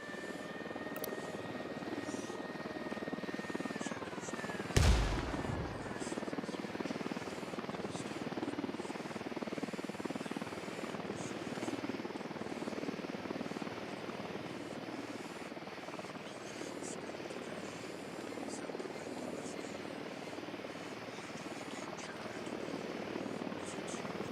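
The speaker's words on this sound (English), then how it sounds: "Deploying drone." Surveillance drone in Ghost Recon Wildlands: a steady, faint rotor buzz and hum running throughout, with one sharp thud early on and a quiet hiss of background wind.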